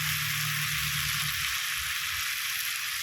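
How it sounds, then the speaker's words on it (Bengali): Ridge gourd and potato fry in a pan over a wood-fired clay stove burning bamboo, giving a steady broadband sizzle that runs loud and even throughout, with faint low crackle beneath and no talk. "আমি এইদিকে কষিয়ে কষিয়ে তরকারিটা মানে সবজিটা খুব সুন্দর করে ভেজে নিচ্ছি"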